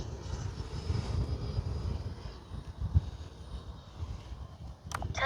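An FMS Super Scorpion V2 RC jet passes overhead, its turbine a soft rushing whine against gusty wind buffeting the microphone, steady and fairly faint and distant.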